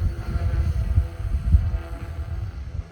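A Goosky RS4 RC helicopter hovers at low rotor RPM outdoors in light wind, giving a steady low hum that pulses slightly, mixed with soft wind buffeting on the microphone.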